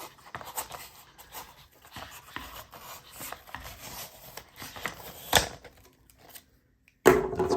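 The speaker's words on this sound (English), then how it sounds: "let's test the Mossyoak knife and see how well it cuts through cardboard" Mossy Oak fixed-blade knife slicing through cardboard, a run of close, dry scraping and rasping strokes with brief pauses, a sharp snap near the end, then a louder burst of rustling.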